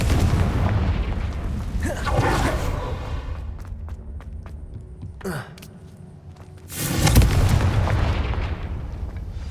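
A Confringo fire spell in the video game Hogwarts Legacy bursts in booming explosions with magical crackles, one near the start and another later, amid game ambience and a player's gasps.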